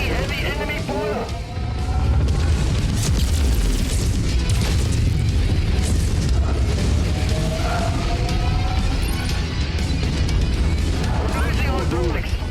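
Missiles exploding in the mech combat game MechWarrior 5: Mercenaries. The booms are loud and run together into a dense, continuous roar, with game voices and speech mixed in.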